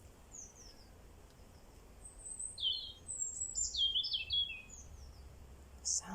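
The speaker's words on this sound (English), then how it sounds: "The sound of the birds, beautiful," Several birds sing outdoors, bright high chirps and warbled phrases coming in bursts over a quiet background hum, moderately close.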